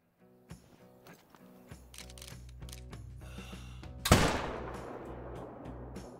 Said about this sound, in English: I'm going to try to shoot him again.